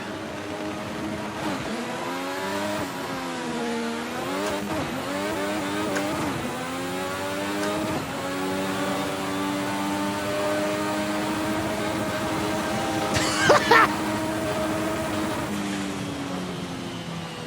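A Formula 1 racing car pulls away from a start in second gear on a circuit, its engine droning loud and close as the revs climb and dip repeatedly through gear changes, with a brief sharp squeal near the end.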